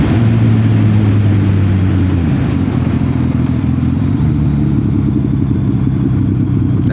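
A Suzuki Hayabusa Gen 2 sport bike is ridden on the road, its loud, steady engine drone holding strong throughout. The pitch shifts slightly as the rider changes speed, with wind rush underneath.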